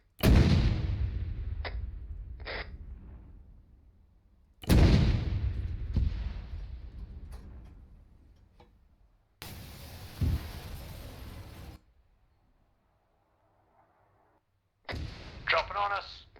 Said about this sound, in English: Hearing those mortars west.